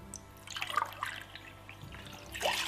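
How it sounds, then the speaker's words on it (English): Water poured from a bucket into a pot on a stove at home, two short splashing bursts separated by a brief pause, close and fairly clear. "I'm going to be putting some water on the stove now. So roughly use my water bucket right here."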